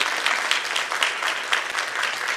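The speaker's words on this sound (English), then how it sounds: "if everyone can please join me in giving her a round of applause for her dedication" Audience applause at a Women's History Month community evening, a steady wash of many hands clapping close by for a couple of seconds with no talking over it.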